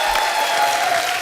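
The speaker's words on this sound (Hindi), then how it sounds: "जोरदार तालियां सुखविंदर पाजी के लिए।" Sustained applause from a TV comedy show studio audience, dense and steady clapping throughout, fairly loud and close.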